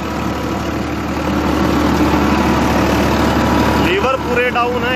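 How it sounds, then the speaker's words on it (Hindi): A Farmtrac 60 Powermaxx tractor engine labors under heavy load at about 1500-1600 rpm while working stony, waterlogged field ground, a steady low diesel drone that shifts pitch near the end, with someone talking over it. "भाई ट्रैक्टर चक्कर नहीं तोड़ रहा"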